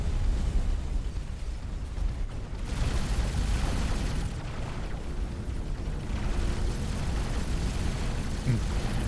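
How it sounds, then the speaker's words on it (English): A loud, rumbling explosion in a space strategy game, a sustained roaring blast with a second burst of crackling debris midway through, no talk over it. "Explosion."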